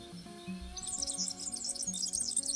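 Small yellow canary (serin) singing as a sound effect in a told story, bright rapid chirps and trills running through the clip over a soft low musical backing.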